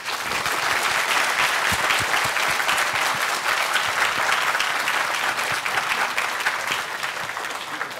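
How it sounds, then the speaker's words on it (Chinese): An audience gives sustained, loud applause at the close of a university lecture on big data. The clapping is dense and even for the whole stretch, with no talk over it. "让我们再次以热烈的掌声多谢赵薇校长"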